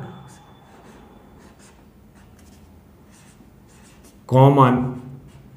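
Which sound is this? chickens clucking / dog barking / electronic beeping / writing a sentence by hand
writing a sentence by hand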